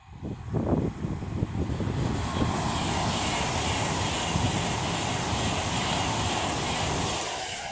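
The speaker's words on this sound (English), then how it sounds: "So now coming through is another Avanti West Coast Class 390 Pendolino running from Glasgow Central to London Euston." An Avanti West Coast Class 390 Pendolino electric train running from Glasgow Central to London Euston passes through Rugby station on the West Coast Main Line, a loud sustained rushing roar that builds quickly and holds steady before easing slightly, with no talk.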